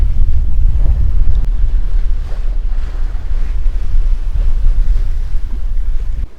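Sailing a boat in Dublin Bay with 13 knots of wind: a constant loud roar of wind buffeting the microphone over rushing, sloshing water against the hull, steady throughout with no voices.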